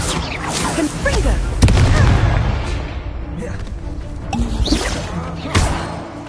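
Confringo blasting spell going off in Hogwarts Legacy, a loud booming blast with crackling debris and whooshes, followed by further impacts and spell effects over a dense game soundscape.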